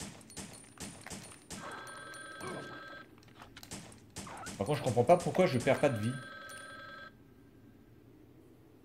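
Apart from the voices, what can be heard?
telephone ringing in video game Biohazard Gun Survivor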